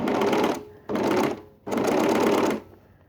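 An overlocker runs along the inside seam of a pair of trousers in three close bursts, the middle one short and the last one longest, each ending in a brief pause.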